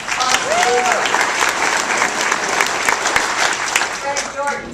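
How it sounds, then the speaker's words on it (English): An audience gives a loud, continuous round of applause for mayor Dewey Bartlett, dense clapping throughout with brief voices and a few tonal sounds over it. "So let's give another round of applause for Dewey Bartlett."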